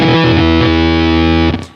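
Electric guitar runs through an MXR Blue Box octave fuzz pedal, giving a loud, thick, buzzing sustained note with slight vibrato and a wobbly pitch shift before it cuts off abruptly.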